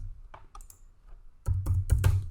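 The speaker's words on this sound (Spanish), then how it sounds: "Vamos a teclear" A short burst of computer keyboard typing, a few quick close keystrokes followed by a louder cluster of clacks, with no voice.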